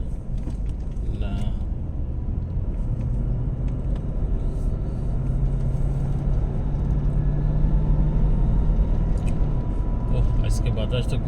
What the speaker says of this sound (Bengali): খুব বেশি বাতাস দিতে আছে।